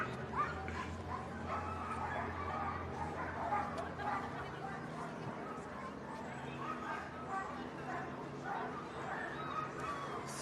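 Sled dog teams bark, yip and whimper excitedly at the Iditarod ceremonial start in Alaska, a dense, continuous chorus from many dogs amid crowd chatter and talking voices.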